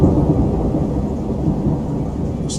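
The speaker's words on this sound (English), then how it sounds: "Scandinavian Seasons weather mod, I noticed that the thunder's pretty loud inside." Thunder from the Scandinavian Seasons weather mod in the game Skyrim, heard from indoors as a loud, deep, continuous rumble with a rain-like wash, steady throughout with no talk.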